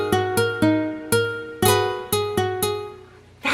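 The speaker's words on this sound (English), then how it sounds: "It's a guitar!" A plucked stringed instrument, likely a guitar, plays a sequence of separate notes and chords, each with a sharp attack and a ringing decay. The notes come at an uneven pace, clear and close with no talking, and the run ends on a short noisy burst.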